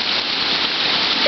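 Rain falls in a steady, dense hiss for just over a second, close and fairly loud, with a short voice sound rising at the very end.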